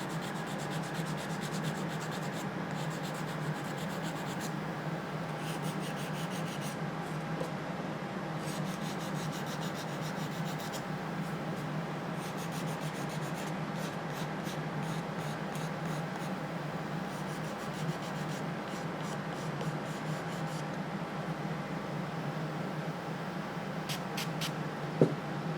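Someone hand-sands a filled plastic shell with a file or abrasive in steady, soft rubbing strokes over a constant low hum, with occasional light clicks and a sharper tap near the end.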